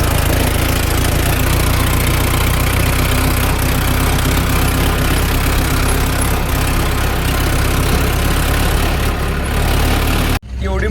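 A tractor hauling an overloaded trolley runs on continuously with a loud, steady low engine drone close by, cutting off abruptly near the end.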